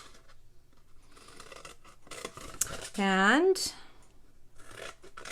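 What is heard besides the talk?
scissors cutting along the long side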